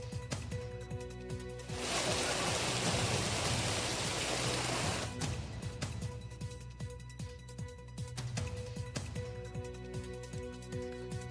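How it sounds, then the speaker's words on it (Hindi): Heavy rain falling in the rural areas of Kota, Rajasthan, as a steady rushing hiss that swells louder for a few seconds, mixed with tonal background hum. "कोटा के ग्रामीण इलाकों में भी सुबह से जमकर बारिश हुई है।"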